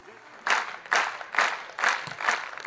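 A crowd at a German beach volleyball championship applauds after the opening match, clapping in several surging bursts that swell and fade, fairly loud and close.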